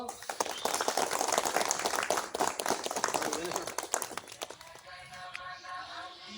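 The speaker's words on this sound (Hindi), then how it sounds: "ताली मारो" People at a school Republic Day flag-hoisting clap together in a loud, busy burst of rapid hand claps that thins out and fades near the end, leaving quieter background voices.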